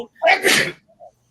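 A single sharp sneeze, close and loud, bursting out during a wrestling livestream conversation, followed by quiet.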